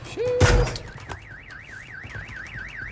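A car alarm sounds in Call of Duty Warzone, starting with a thud and a brief tone, then settling into a loud, steady warbling siren that rises and falls rhythmically without any talk.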